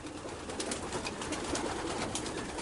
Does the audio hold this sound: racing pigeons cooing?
yes